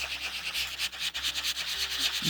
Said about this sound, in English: I've just got my sanding block and just gone over that card